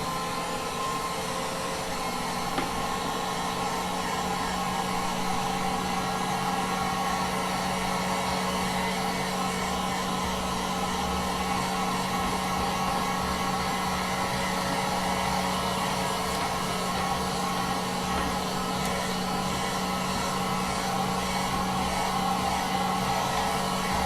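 A heat gun blows hot air over a PlayStation 3 circuit board to melt its solder, making a loud, steady roaring whoosh that holds unchanged throughout, alone and close.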